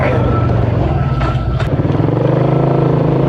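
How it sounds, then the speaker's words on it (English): A KTM Duke motorcycle passes by with a steady, loud engine drone close to the rider's own running engine and wind noise, rising slightly then fading. "There's a Duke right there."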